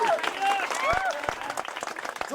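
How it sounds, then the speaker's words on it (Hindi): Audience applause at an outdoor cricket tournament prize-giving ceremony; a short burst of clapping from a crowd, with a voice talking over it. "एक जोरदार ताली बजा दिए"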